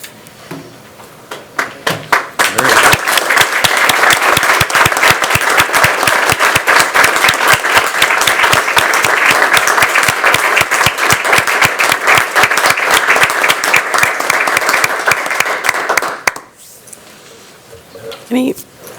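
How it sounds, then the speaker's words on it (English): A school board meeting audience in Waukesha gives a long, loud round of applause, dense overlapping clapping sustained for about fifteen seconds before cutting off abruptly, followed by quieter room sound. "give you a nice big collective Waukesha Proud round of applause"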